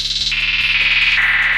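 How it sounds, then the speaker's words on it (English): Steady electronic rolling trap hi-hat ticks with a low synth pulse beneath, the bright upper pattern stepping down in pitch and panning slowly from left to right. "it starts on your left ear and then slowly goes to your right."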